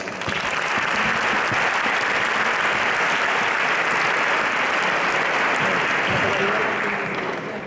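Loud, sustained applause from a concert audience at a flamenco final in Leganés, a dense wash of clapping that fills the whole stretch and fades slightly at the end.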